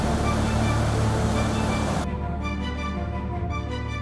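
Falling water at Athirapally Waterfalls, Kerala, roars loudly and continuously, a dense broadband rush that softens slightly in the second half.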